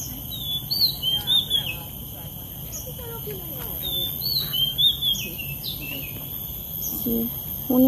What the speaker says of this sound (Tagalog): Si huni ng ibon talaga. Gandang pakinggan.